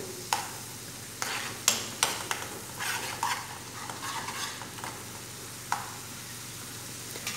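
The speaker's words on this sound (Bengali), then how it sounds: "কতক্ষণ এভাবে ভেজে নেব, মশলাটা ভেজে নিলে তারপর ঘিরান বেরোয়" Spice masala frying and being stirred in a pan, with a steady soft sizzle broken by repeated scraping stir strokes and clinks of the spoon, close and fairly quiet, no talking.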